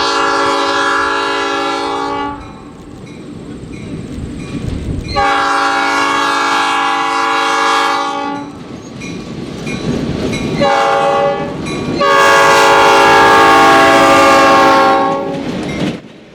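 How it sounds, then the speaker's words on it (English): An EMD GP7R diesel locomotive in Chicago, Rock Island and Pacific 4506 colors pulls a caboose train at the Illinois Railway Museum during Diesel Days 2024. Its horn blasts loud in a long grade-crossing sequence over rumbling wheels and the running engine. "Chicago, Rock Island and Pacific 4506 and EMD GP7R is pulling the museum's caboose train"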